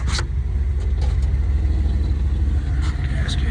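A 1958 Edsel hardtop that has sat unused for a while idles with a steady, loud low engine rumble up close, even and continuous, with a few faint clicks on top.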